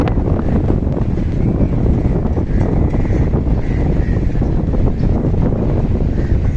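Strong, steady wind from an approaching cyclone, blowing in off the sea, roars across the microphone, a dense continuous rumble with no letup, buffeting loudly throughout.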